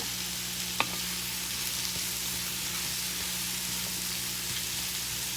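Keto jalapeño popper and zucchini sausage filling frying in a pan, a steady loud sizzle running throughout with one brief click near the start and no voices.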